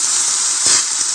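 Food cooking over a wood-fuelled fire in the survival game Last Day Rules Survival gives a loud, steady, close sizzle and hiss throughout the brief moment.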